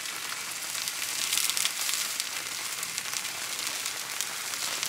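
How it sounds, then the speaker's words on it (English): Cream, yabbies and garlic simmering in a pan, a steady close bubbling sizzle with fine crackling that holds evenly throughout and has no talk over it. "pop the cream in there with the yabbies and the garlic and let it simmer away so it gets nice and thick"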